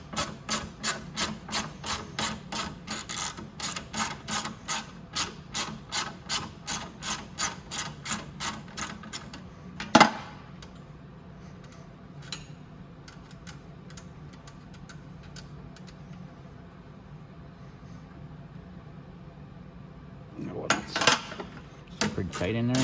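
A 10 mm wrench working a bolt under a Venom 125cc mini jeep: a quick run of rhythmic ratcheting clicks, a sharp clank, a quieter stretch, then another short burst of clicking.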